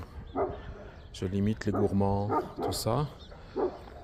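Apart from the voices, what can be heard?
dog barking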